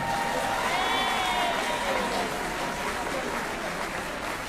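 An audience applauds Madame Goram during an Olympic flame celebration in Petit Bourg, a dense, continuous patter of clapping mixed with crowd noise and a few voices, steady and fairly loud throughout.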